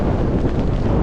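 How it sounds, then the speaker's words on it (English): Cold wind and sideways rain batter the microphone on an exposed mountain walk during the Yorkshire Three Peaks, a loud continuous blustery roar over one brief second. "the rain is hitting us like darts, blowing sideways, and that wind is really cold"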